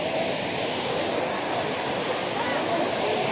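At Thusharagiri in Kerala, a forest waterfall roars steadily and loudly from close by, a dense, unbroken rush of falling water filling the whole moment.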